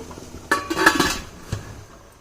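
Tupperware steamer being covered with its lid, a couple of close plastic clacks and clinks, a brief cluster followed by one more knock a second later.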